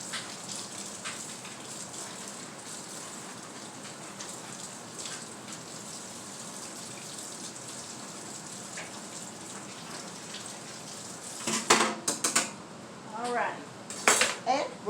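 A hot stirrer from strawberry watermelon jelly is rinsed under steadily running kitchen water, ending in a few close clinks and knocks against the sink.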